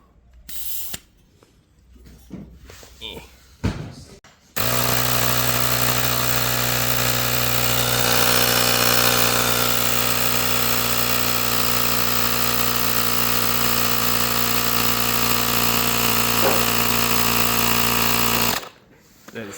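A pump inflates the tyres of a SurRon Hyperbee electric pit bike to 33 psi, holding a loud, steady mechanical drone for about fourteen seconds, preceded by brief handling noises and a voice, and ending sharply.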